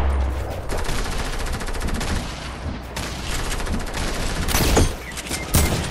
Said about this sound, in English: So he lasers me with his SMG